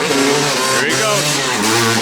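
A 2001 Honda CR250 two-stroke dirt bike with a simple power valve rips past close by. Its loud, high-revving engine rises and falls in pitch over about two seconds.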